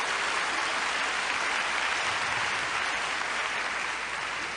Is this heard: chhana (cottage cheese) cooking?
no